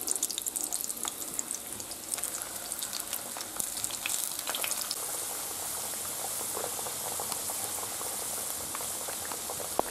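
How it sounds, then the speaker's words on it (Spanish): Potatoes fry in hot oil in a pan while cooking a Valencian baked rice dish, giving a steady, close, busy sizzle with dense crackling throughout. "Ahora que está ya caliente, vamos echando las patatas para que se hagan."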